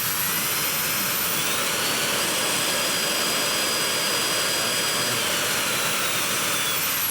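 A constant high-pitched whine over rushing, blowing air from a Nitecore CineWind CW20 handheld photography fan, steady and close for the whole stretch with no pauses.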